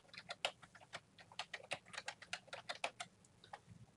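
Quiet, steady typing on a computer keyboard as a username, email and password are entered, a rapid uneven run of close key taps that carries on throughout.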